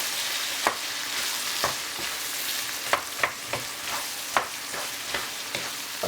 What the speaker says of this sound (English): Next, a little stir.